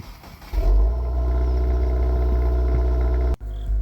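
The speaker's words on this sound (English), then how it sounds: "I'm going to let it idle a little bit to get the oil temperature up so that it drains a little faster." A 2024 Subaru WRX engine cranks and catches, then settles into a loud, steady idle rumble with a brief dip near the end.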